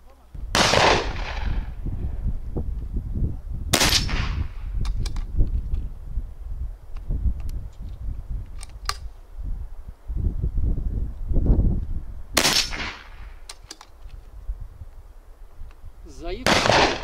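A PCP air rifle fires at a resettable concrete target, several sharp shots with metallic impacts spaced across the span, heard up close while someone speaks in Turkish between them.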